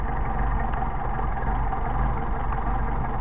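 A Mercedes 190SL engine with freshly adjusted Solex carburetors idles smoothly and steadily nearby, a constant low rumble with no voices over it.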